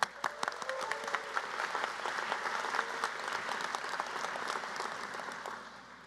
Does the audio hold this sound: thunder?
no